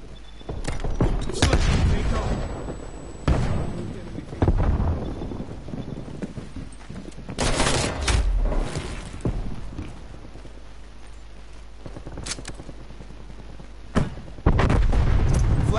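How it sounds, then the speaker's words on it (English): Enemy sniper fire in Call of Duty Black Ops Cold War: several sharp, loud single shots ring out at irregular intervals, each cracking and then fading, with quieter game ambience between them. "Enemy sniper shooting."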